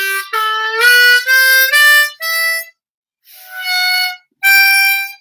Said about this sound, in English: So I'll play in second position on my C harmonica.